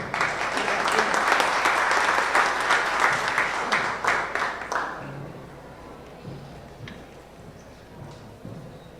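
Audience applause welcoming speakers at a criminal law master's program event, a dense burst of clapping that tapers off after about five seconds into scattered claps and room noise.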